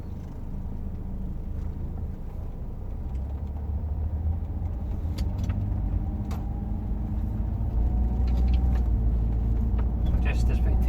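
A Saab 9-5 2.3T Aero cruises along a motorway, its steady engine and road rumble droning continuously from inside the car and swelling slightly toward the end.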